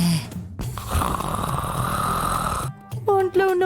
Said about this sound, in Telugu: నిజంగానే ఇలా గురక పెట్టినేంటిది?